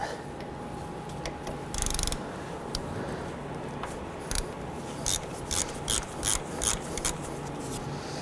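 Ratchet clicking in bursts as a ground strap bolt is loosened in a 2006-11 Honda Civic engine bay, close by over a steady background hum, with several short separate runs of ratcheting near the end.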